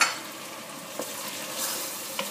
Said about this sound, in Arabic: نحركها بالقدا